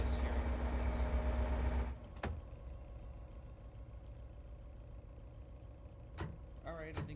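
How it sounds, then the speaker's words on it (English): An MBTA diesel locomotive in Train Sim World 5 idles with a loud, steady low hum that cuts to a quieter idle after two seconds, followed by a brief clunk and a faint mechanical whir near the end. "The locomotive on my train is still at a low idle, but the one next to me is on high idle."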